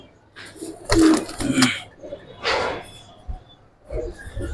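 Giribaz pigeons coo in soft, throaty bursts, several calls close by with short pauses between them, no talking.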